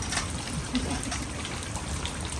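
Heavy monsoon rain of the season's first downpour in Gariadhar, Bhavnagar, falls as a steady, dense hiss with close patter and trickling water throughout, and no one speaks.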